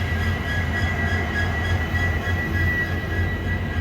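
Passenger train rolling out of Goa past Vasco and Madgaon, a loud, steady rumble of wheels and carriages with a faint metallic whine running through it.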